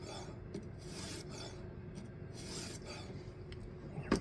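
A sharpening stone rasps against a clamped knife bevel in steady back-and-forth strokes, a soft, close, gritty scraping with no talk.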